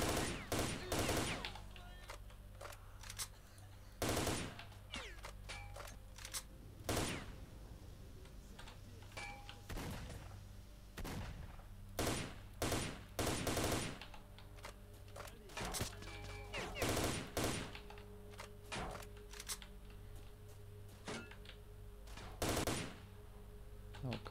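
Repeated bursts of gunfire in the video game S.T.A.L.K.E.R. Shadow of Chernobyl, a sharp, loud string of single and rapid shots spread irregularly over a quieter ambient game background.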